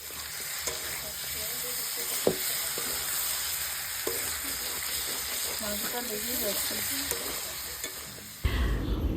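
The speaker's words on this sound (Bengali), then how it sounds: "অনেক দিন পর আজকে মাংস রান্না হলো," Broiler chicken meat frying with potatoes in a pan, a steady close sizzle with occasional stirring clatters, a voice talking faintly underneath, and a sudden louder sizzle burst near the end.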